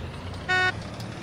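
A single short car horn honk from a vehicle in the survival game Unturned, a steady blare lasting about a quarter second over low in-game background hum.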